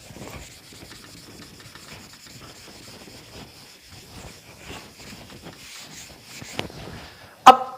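Chalk blackboard being erased by rubbing during a physics lecture on magnetism, a steady soft scrubbing texture running throughout at moderate distance, ending in a sharp louder knock near the end.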